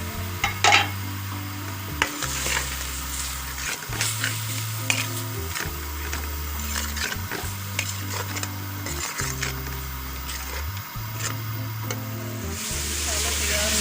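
Spices frying and sizzling in a pan while being stirred for a potato and capsicum curry, a steady close sizzle broken by repeated scraping stirs and occasional clinks of a utensil against the pan.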